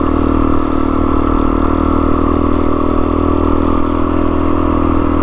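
A motorcycle fitted with different tires is ridden along a route, its engine droning loudly and steadily up close with a rattly mechanical edge and no talking.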